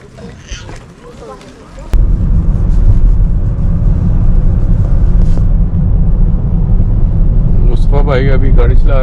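A car drives along a road near the Gileppe Dam in Belgium, its engine and road noise holding a steady loud rumble with buffeting wind, and someone speaks briefly near the end.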